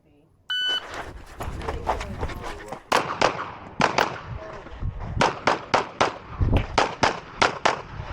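Rapid pistol shots crack out in quick bursts during a USPSA practical shooting stage, sharp and loud, with a brief buzzer-like tone at the start and a pause mid-string before more fast volleys.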